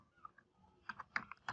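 Keyboard typing with a handful of quiet, uneven key clicks that cluster toward the end, close but faint, with no talking.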